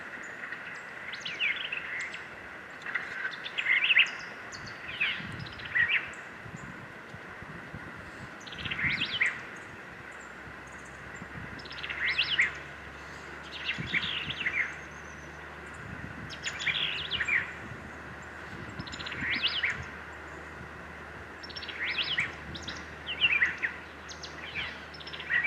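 A white-eyed vireo sings repeated short, bright song phrases at moderate distance, coming every few seconds over a soft background hum, with no one talking.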